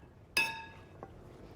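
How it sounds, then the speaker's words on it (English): A spoon clinks once, sharp and ringing, against a glass bowl of chopped tomato and cucumber salad, followed by a fainter tap a moment later, close and quiet with no voices. "Let me give it a stir though, because I just want all that soaking up."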